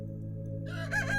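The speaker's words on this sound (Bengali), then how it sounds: "তখন বাইরে উঠোনে মোরগ ডাকছে।" A rooster crows once in a village courtyard at dawn, a moderately near, clear call rising after a brief quiet start over a steady low hum.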